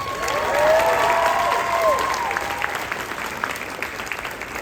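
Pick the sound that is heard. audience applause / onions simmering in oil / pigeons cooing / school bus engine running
audience applause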